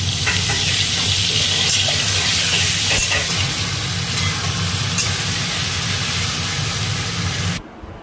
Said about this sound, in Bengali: এবার পটলগুলো দিয়ে দিচ্ছি, পটল আর আলু একসাথে ভেজে নেব।